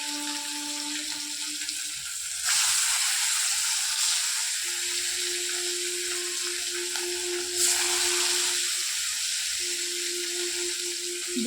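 Fish frying in hot oil in a small pan, a steady close sizzle and hiss that swells in two louder surges as pieces shift, with a faint electric hum underneath and no talk.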